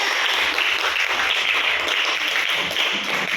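Audience at an Indonesian seminar applauding a presenter; a steady wash of clapping fills the room, fairly loud and continuous throughout, with no talk over it.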